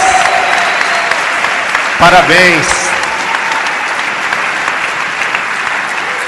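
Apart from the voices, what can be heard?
congregation applauding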